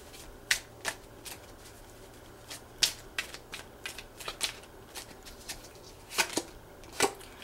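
Lenormand cards shuffled by hand, a close run of crisp, irregular flicks and snaps with short gaps, sharper bursts near the end, and no talking.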